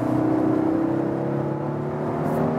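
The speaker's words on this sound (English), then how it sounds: "show you an acceleration on straight road from 70 to 100 kilometers" A 2019 Volvo V60 T6 Inscription in sport mode accelerates from 70 to 100 km/h on a straight road, its engine giving a steady, slowly rising drone heard from inside the cabin, with no talk.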